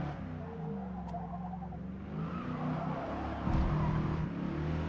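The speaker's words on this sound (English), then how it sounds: "this is a Ford Falcon XB GT. But good ear, it is a V8." Ford Falcon XB GT V8 in a racing video game, with a moderate engine tone that rises and swells as it revs, plus a brief surge partway through, heard fairly quietly.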